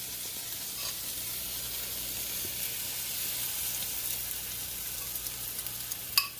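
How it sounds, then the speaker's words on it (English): Onions sizzling and crisping in a Dash mini chaffle maker, a steady soft frying hiss that holds throughout, with a faint click near the end. "Crisping up the onions, just like Jason did."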